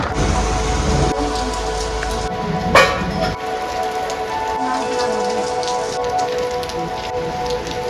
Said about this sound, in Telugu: ఇప్పుడే వర్షం పడింది